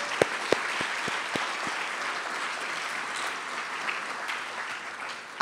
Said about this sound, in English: Could we please give those other sponsors a round of applause?